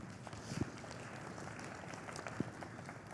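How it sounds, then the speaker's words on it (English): Scattered audience applause rises at a partner convening, a soft, fairly distant patter of clapping hands with a couple of sharper knocks breaking through. "Can we give them a round of applause?"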